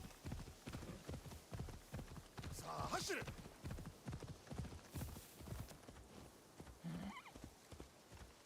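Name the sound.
horse hooves clip-clopping in Assassin's Creed Shadows, video game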